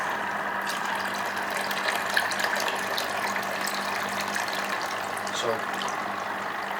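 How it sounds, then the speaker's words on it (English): Water gushes steadily into a container already holding nutrients and algae, a constant close rushing fill that runs throughout, with a voice speaking briefly. "After that, they can fill the rest with water here."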